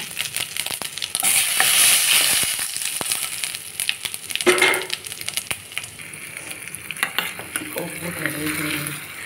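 Tempering (popu) frying in a pan for gongura chutney, a loud crackling sizzle with stirring and clinks of a utensil against the pan, settling into a quieter, steady fry toward the end.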